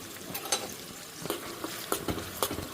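Ground paste being stirred into cucumber chutney in a pan, with a sizzling fry bed and a few soft scraping strokes spaced irregularly, close and fairly quiet, no talking.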